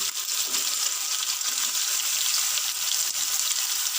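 Chicken with onion, tomato and chillies frying in a pan: a steady, bright sizzle holds evenly throughout, close and fairly loud, with no voices.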